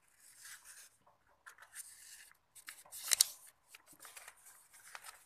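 Paper being creased and folded by hand while making a paper car, with soft crinkles and rubs in short bursts between quiet gaps and one louder crisp crackle near the middle, close and alone.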